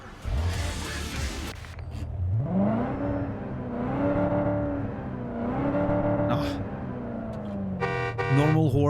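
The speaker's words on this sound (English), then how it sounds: "Normal horn." A car horn honks in a series of drawn-out toots over a running engine in Cyberpunk 2077, ending with a sharp revving burst.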